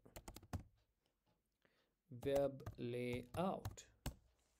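A quick burst of computer keyboard typing opens the sequence, a few crisp key clicks in rapid succession, followed by a person talking.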